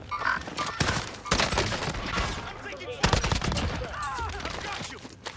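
Gunfire in Call of Duty Warzone comes in repeated sharp bursts and volleys, loud and dense, mixed with game sounds across the whole stretch.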